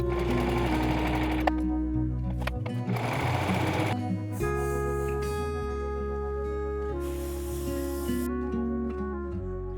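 Sewing machine stitching yukata kimono cotton fabric, running in several bursts of rapid mechanical whirring with brief pauses and changes in speed, close and loud with no talking.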